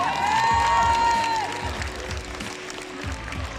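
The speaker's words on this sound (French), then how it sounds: "Je vous demande donc d'applaudir Cosmis Ben, Akami et Luminero" At the Vannes Sekai Festival 2024, an audience claps and cheers for cosplay contestants, with a broad wash of crowd applause following a host's voice and continuing steadily throughout.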